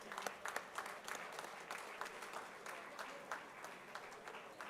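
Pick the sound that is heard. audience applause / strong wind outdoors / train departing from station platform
audience applause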